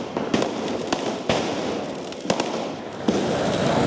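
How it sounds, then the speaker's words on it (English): Diwali firecrackers burst in Chennai at night, a dense crackling finale with sharp loud bangs scattered over a continuous roar of smaller pops. "the evening explodes into a finale of firecrackers"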